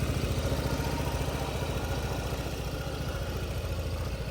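A Honda Forza 125 scooter idles quietly nearby, its small engine putting out a steady, even low putter with a faint rhythmic pulse that holds unchanged throughout.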